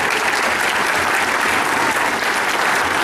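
Crowd applause for a contestant at a cosplay convention, continuous dense clapping at a steady level throughout.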